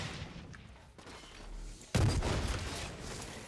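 A grenade blast in the shooter Blacklight Retribution bursts out suddenly after a quiet stretch, followed by a rattle of gunfire and lingering rumble.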